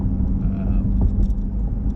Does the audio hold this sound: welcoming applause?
no